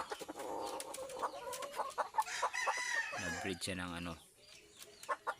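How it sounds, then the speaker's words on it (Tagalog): Pet native Labuyo chickens cluck and a rooster crows nearby, mixed with a person speaking briefly at the start; the bird calls are loud and close. "mga alaga kong manok"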